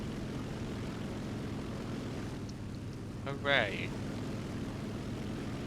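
The propeller engine of a Fiat C.200 Saetta fighter in War Thunder drones loudly and steadily during takeoff, and a short spoken exclamation rises over it midway.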